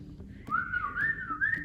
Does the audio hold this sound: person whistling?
yes